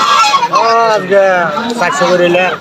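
Loud, continuous honking from a group of waterfowl at a traditional poultry market, with harmonic calls overlapping one another for the whole stretch.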